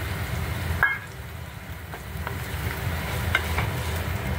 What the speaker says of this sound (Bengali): দেখুন সবজিগুলো ভাজা হয়ে এসছে, আমি সুজিটা দিয়ে দেবো।